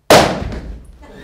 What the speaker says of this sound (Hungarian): Nézze meg, hogy lövöldöznek itt!